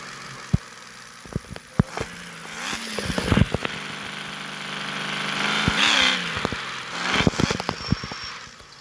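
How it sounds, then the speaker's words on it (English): Racing car engine in CPM2 dropping through gears, revving in rising and falling sweeps with sharp blips and pops between shifts, loud and steady with no talk. "Some nice downshifts."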